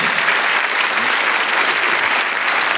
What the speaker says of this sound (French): Applaudissez-le encore très fort